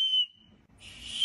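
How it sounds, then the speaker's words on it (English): Survival whistle blown in two short shrill blasts, a clear piercing tone at the start and another brief one at the end with a quiet gap between, close and alone. "This is a survival whistle that you can use if you're in danger or you need"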